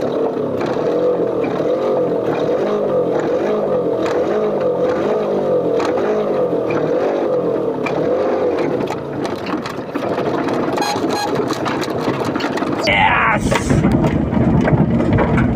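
A vehicle engine labours and revs with a loud, continuous droning roar as it crawls over a rocky, rain-damaged farm road, with knocks and rattles breaking through. The engine eases near the end.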